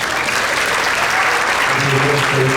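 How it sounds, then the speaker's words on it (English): Audience applause for the school principal at a sixth grade winter concert, a loud, dense and continuous roar of clapping from a large crowd, with faint voices mixed underneath. "You can turn to him and give him a round of applause."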